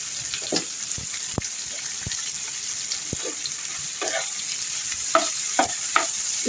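Cauliflower curry with turmeric and salt frying in a pan, a soft continuous sizzle punctuated by repeated sharp clicks and scrapes of a spoon stirring, heard close with no talk.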